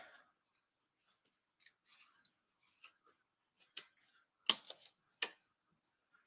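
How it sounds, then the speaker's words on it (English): Scissors fussy cutting around a stamped paper image, a sparse run of crisp close snips, a few isolated then a tight cluster, in a quiet room. "so let's fussy cut this."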